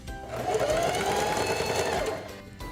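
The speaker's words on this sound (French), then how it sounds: "Appuyer et garder en place le levier de renverse et coudre quelques points en marche arrière." A Singer 4411 heavy-duty sewing machine runs a short burst of reverse stitches, a steady close mechanical whir lasting a couple of seconds, starting and stopping cleanly.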